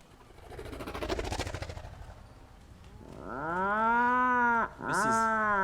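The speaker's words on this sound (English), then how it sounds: "this is the weird call of puffin" Soft wing-beat fluttering gives way to a loud, low, moaning call from an Atlantic puffin at the nest, with a rising and falling pitch, close by, briefly interrupted then resuming.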